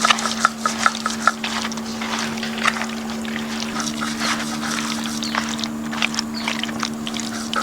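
Magur fish being mixed by hand with mustard oil and spices: soft, wet squelching and slapping in a quick uneven rhythm, close up, over a steady low hum.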